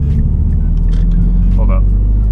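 A car fitted with H&R lowering springs rumbles steadily through a corner at low speed, heard from inside as a loud, constant engine and road drone, with a person talking over it.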